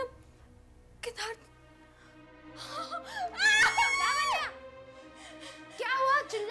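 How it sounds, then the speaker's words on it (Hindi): A woman screams in a horror drama scene, a few sharp, high wailing cries that rise and fall in bursts. Quieter dialogue and faint background sound fill the gaps between them. "चिल्ला क्यों रही हो?"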